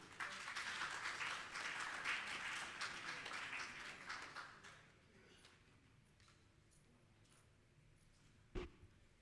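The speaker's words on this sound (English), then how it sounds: "with a round of applause, shall we welcome Mr." A conference audience applauds to welcome a speaker to the stage, fairly distant clapping that lasts about five seconds, then thins and fades into quiet room noise broken by a single sharp knock.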